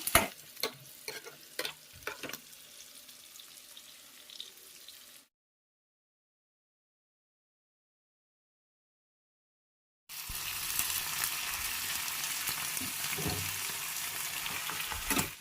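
Duck meat frying in an oily pan, a close crackling sizzle with a few sharp stirring knocks, then a stretch of total silence before a louder, denser hiss resumes.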